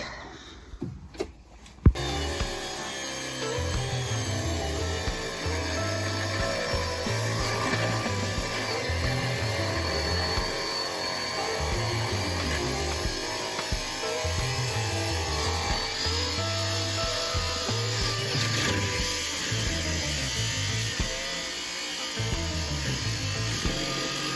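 An angle grinder cuts metal while repairing a burst wood-fired boiler, whirring into a steady, loud, unbroken grind that runs for over twenty seconds after a brief knock at the start.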